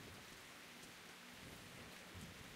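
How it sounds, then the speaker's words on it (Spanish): Steady, dense rain falling in the Metro: Last Light video game, a continuous hiss with low rumbling underneath, fairly quiet and unbroken with no talk. "Con la lluvia no se ve nada."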